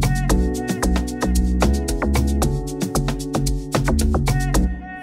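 An Amapiano track built in FL Studio plays, with a deep, punchy bass line locked to a steady beat and bright percussive hits pulsing in a tight, loud rhythm.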